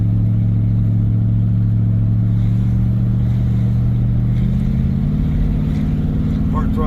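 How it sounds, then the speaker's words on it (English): A 1971 Dodge Polara with 31,000 original miles accelerates hard on kickdown, its engine droning loud and close with rising pitch and a gear shift partway through, heard from inside the car. "Hard throttle kick down"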